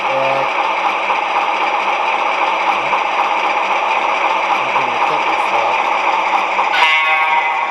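A continuous model train diesel engine sound effect drone with a steady mechanical hum and buzzing harmonics, constant in level, with a brief rise in pitch near the end.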